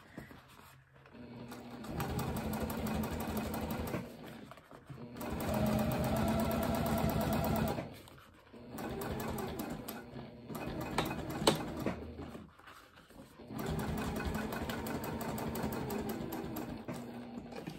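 A sewing machine top stitches a tote bag pocket at regular stitch length, whirring steadily in several long runs separated by brief stops, close and clear with no talking.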